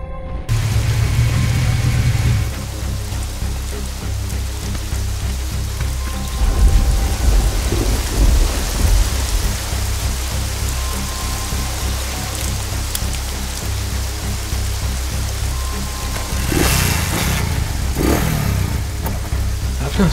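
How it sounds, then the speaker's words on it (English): Heavy rain pours steadily and loudly on surfaces while thunder rumbles low beneath it, with a sharper crack and roll of thunder late in the scene. "It's raining heavily here."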